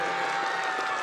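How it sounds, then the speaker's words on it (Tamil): Students clapping in a dense, steady burst at a government high school annual day, brief and continuous with no voices over it. "கைத்தட்டுமாறு கேட்டுக்கொள்கின்றோம்"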